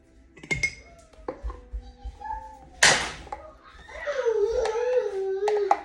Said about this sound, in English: Have to like use a spoon or something to get that out.